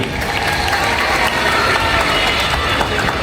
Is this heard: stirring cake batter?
no